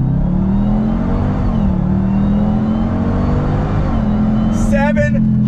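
A 2021 Dodge Durango Hellcat SUV with a 710-horsepower engine and automatic transmission pulls hard, its loud steady engine drone heard from inside with a brief pitch dip and chirp near the end.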